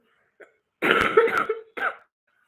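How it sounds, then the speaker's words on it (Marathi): A person coughs in a short close burst, then gives another rough cough after a brief pause, in an otherwise quiet room. "खोकला थोडंसं जास्त प्रमाणात आहे"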